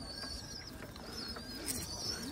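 A pigeon coos softly in low, rolling phrases at a modest distance, faint under steady background noise with thin higher chirps from other birds.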